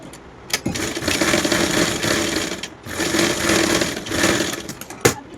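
A sewing machine stitches baby coat fabric in short runs, its fast motor whir rising and stopping between brief pauses, close and loud with no talking.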